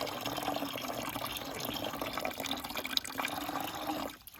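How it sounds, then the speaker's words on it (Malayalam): Water is poured into a small tub to bathe a sugar glider, a continuous close trickling splash that runs for several seconds before tapering off at the end. "അപ്പോൾ ഇതിലേക്ക് കുറച്ച് വെള്ളം ഒഴിക്കാം ഇവിടെ ഇങ്ങനെ കൈ വെച്ചിട്ട് ഇങ്ങനെ ഒഴിച്ചാൽ മതി"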